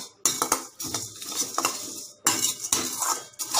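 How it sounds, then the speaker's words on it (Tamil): A metal spoon scrapes and clatters against a pan while spices dry-roast for homemade rasam powder, with rapid, irregular close-up stirring strokes and a brief pause midway. "இங்கே பாருங்கள், எல்லாம் கொஞ்சம் ரோஸ்ட் ஆகிட்டுருக்கு."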